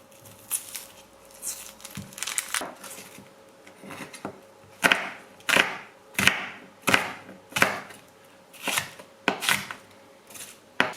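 Knife chopping vegetables into small pieces on a cutting board at home, a steady run of sharp close taps that speeds into regular strokes and continues alone with no voices.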